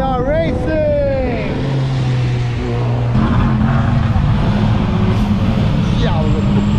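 A race car running at Autodromo Las Americas in Santo Domingo, Dominican Republic, its engine a loud, steady drone with shifting pitch throughout, and an excited voice talking over it.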